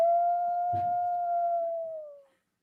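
A single wolf howl in a Minnesota radio advertisement rises briefly and then holds one long, smooth, clear tone before it tapers off and fades to silence.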